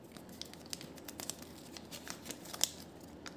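A paper information sheet from a surprise crispy crunchy pack is unfolded by hand, giving soft, close crinkles and rustles with a few sharper crackles, one brief louder snap near the end.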